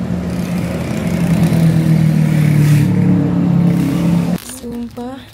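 A motorcycle engine drones steadily while riding on the road in Medan, then drops off abruptly near the end as voices take over briefly.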